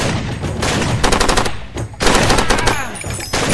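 Heavy shotgun and automatic gunfire erupts in Far Cry 2, dense overlapping blasts in several loud bursts with short gaps between them.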